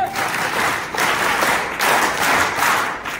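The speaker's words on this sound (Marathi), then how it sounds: "ही टाळी तालात सुरात वाजवायची असते." A large audience at a fort-building competition prize ceremony claps together in rhythm, loud and close, the clapping swelling in regular pulses with no talking over it.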